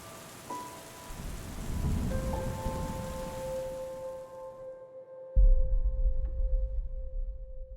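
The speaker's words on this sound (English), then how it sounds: "gray clouds were gathering above the city, and soon after, the first raindrops." Rain falls over a city in Cities Skylines, a steady broadband hiss that swells and then cuts out, with sustained musical tones and a later low rumble carrying on alone.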